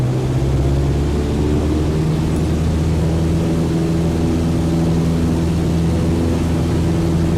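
Aircraft engine in a flight game being throttled up to 2400 RPM at full power, a loud, steady propeller drone with a deep humming tone holding constant throughout.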